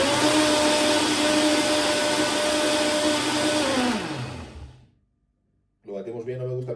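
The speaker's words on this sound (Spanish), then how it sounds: "Lo batimos bien, no me gusta a mí que queden grumos" A Cecotec blender whirs loudly and steadily as it mixes a diet shake, then winds down and cuts off into brief silence before roaring back on.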